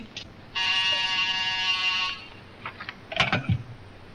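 An old landline telephone rings in one long, steady electric burst that stops abruptly, followed by faint clicks and a brief rustle as the receiver is picked up.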